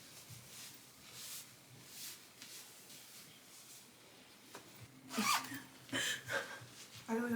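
A small zipper is worked on a crocheted quarter-zip garment. It makes a series of soft, raspy zipping strokes, quiet at first, then louder and quicker toward the end.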